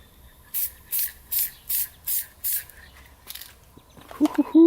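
Six short, loud bursts from a spray can of Kawasaki green paint being tested on wood, evenly spaced, followed by a quieter burst and some clattering handling noise at the end.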